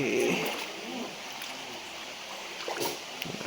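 Water streams out of a tunnel and flows away along a channel, a faint steady rushing wash with a few soft splashes near the start and end.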